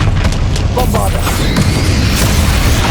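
A Bombarda blasting spell explodes during a boss fight against Ranrock in Hogwarts Legacy, a booming blast with crashing debris that sounds loud and near over a dense game soundscape, with a voice shouting briefly early on.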